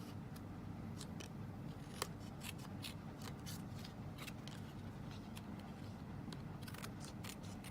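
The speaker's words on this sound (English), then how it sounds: "Let's just chop off that extra there." Scissors snip through leftover card paper at a craft table, a string of faint, crisp clicks scattered through a quiet, steady background hiss.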